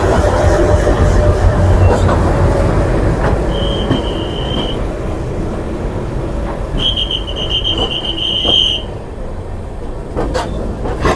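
The LHB Lahori Express (Dehradun–Amritsar Express) rolls into Amritsar station with a loud, steady rumble of wheels and carriages, broken by two high, sustained wheel squeals in the middle and clattering over rail joints.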